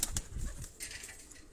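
Pigeons kept by a hobbyist flock, heard as soft fluttering and faint rustling with a muted low coo, quiet and close, no talk.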